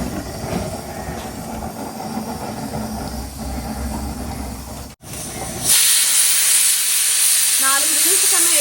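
Pressure cooker whistle blasting out steam while cooking a spicy kandankay fry, a loud sustained hiss that bursts in halfway through after a quieter stretch of kitchen background and a brief cut.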